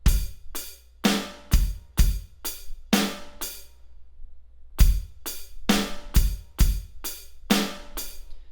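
A drum beat alternates punchy bass drum hits with crisp snare strikes in a repeating bass, bass and snare pattern. It plays in two clean phrases separated by a short pause, loud and close, with no talking.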